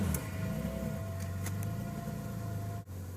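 A Subaru SVX EG33 flat-six fitted in a T25 van idles with a steady, low, even rumble and faint mechanical ticking, heard close and continuous with a brief dip near the end.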